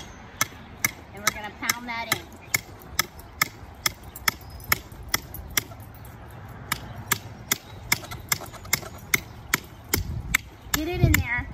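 Sharp metallic hammer strikes driving a metal conduit into the ground land in a steady series, roughly two per second, loud and close, with faint rustling between blows.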